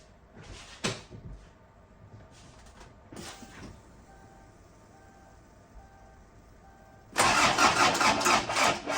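A Kia Sportage engine cranks with a booster attached, failing to start, in a few short bursts, then a longer, louder grinding crank near the end, with quiet pauses between attempts and no voices.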